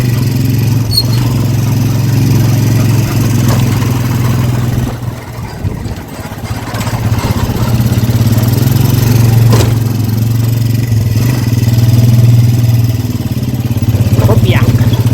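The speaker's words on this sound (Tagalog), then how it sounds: "makina ng bangka." A small boat engine drones steadily throughout, a loud low chugging hum that dips briefly near the middle before resuming at full strength.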